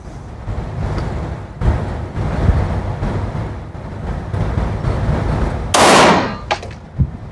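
Gunshots ring out at a shooting range during security and bodyguard training: a few sharp, loud reports are spaced apart, with one longer, harsher burst near the end.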